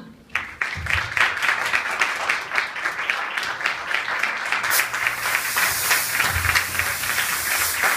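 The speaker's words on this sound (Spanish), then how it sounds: "Solicito por favor un fuerte aplauso para recibir a nuestro invitado" A crowd applauds loudly and steadily at a youth brand event to welcome a singer as a guest, a dense wash of clapping lasting about eight seconds.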